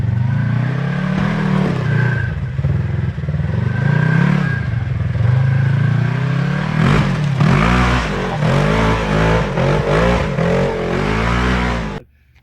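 Off-road vehicle rock crawling on Maxxis Roxxzilla tires: a loud, close engine drones and revs steadily, with rising and falling pitch and rough clattering bursts as it climbs over rocks, then cuts off abruptly.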